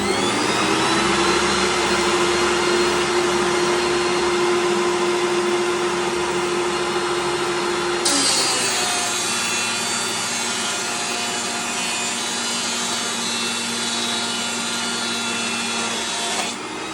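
Acoustic guitar side wood being planed down to thickness on a machine, a loud continuous whining roar lasting the whole stretch, with its tone shifting sharply midway as the load changes; no voices.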